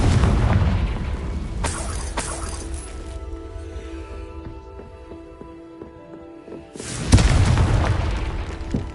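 A booming Confringo blasting spell goes off in a Harry Potter video game at Hogwarts: a loud broadband explosion rumbles, fades into a quieter magical shimmer, then a second heavy blast erupts near the end.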